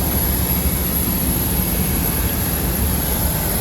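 A Fly Dubai airplane's jet engine roars at the airport, a loud, steady, broadband whine with no breaks and no talk.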